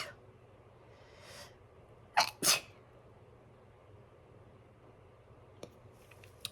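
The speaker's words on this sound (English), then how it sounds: "Oh gosh, I'm going to sneeze." A single quiet sneeze, a sharp double burst of breath in a calm room, followed by silence and a few faint clicks.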